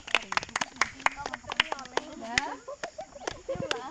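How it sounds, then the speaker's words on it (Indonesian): Scattered hand claps in a classroom for a student group, a brief, uneven burst of applause mixed with nearby voices talking over it. "Silakan tepuk tangan untuk kelompok"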